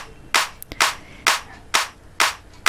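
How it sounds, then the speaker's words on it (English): A clap sound sample played back in the Reaper DAW, five or six crisp, dry hits at a slow, uneven pace with quiet gaps between them and nothing else heard. "Now only the clap sound is produced."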